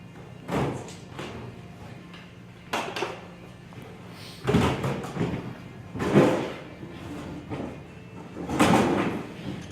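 Workshop drawers at a makerspace are pulled open and rummaged through during a search for a hammer, giving several sliding thumps and clunks spaced a few seconds apart, fairly close, with no talking.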